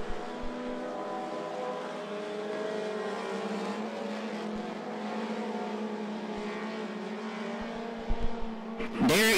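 Four-cylinder front-wheel-drive race cars lapping the I-75 Raceway oval, engines droning together at a distance in a continuous buzzing roar, swelling louder and closer with a sharp burst at the end.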